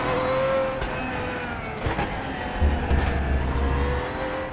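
Pagani Zonda R cup-car version in Assetto Corsa, its engine droning and revving steadily with rising and falling pitch, moderately loud and continuous with no voices.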